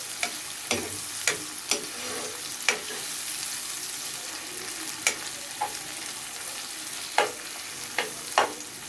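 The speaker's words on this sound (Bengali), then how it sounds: "আমি একটু নেড়ে চেড়ে দিতেছি পেঁয়াজটাকে" Onions frying with bay leaves, cardamom and cinnamon, being stirred in a pan, under a steady hissing sizzle punctuated by occasional spatula scrapes and knocks, near and moderately loud, without speech.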